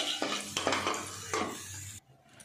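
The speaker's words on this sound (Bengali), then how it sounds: "আলু ফ্রাই হয়ে গেছে, নামিয়ে দিচ্ছি।" Fried potatoes are lifted out of a pan of hot oil for a fish curry: metal scraping and clinks of a utensil against the pan over a low sizzle, a few distinct strokes, then quiet.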